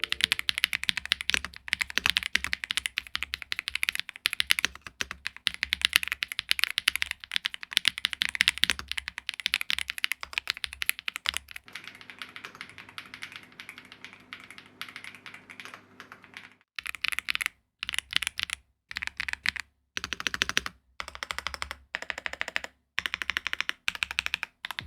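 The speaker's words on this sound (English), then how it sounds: "here's a quick sound test of the P1 Pro with red switches." A Lemokey P1 Pro mechanical keyboard with red switches is typed on in a steady stream of soft, close keystrokes, with brief pauses between bursts and a longer break midway.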